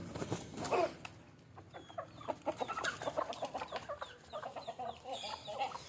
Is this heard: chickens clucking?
yes